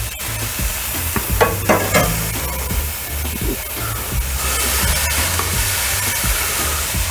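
Hamburger patties coated in Montreal steak seasoning sizzle over a flame grill, a steady broad hiss with a few sharper pops and crackles early on, close and fairly loud throughout.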